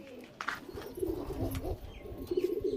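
Pigeons in a loft give soft, low cooing calls in short repeated bursts, fairly close and moderately quiet against a faint background rustle.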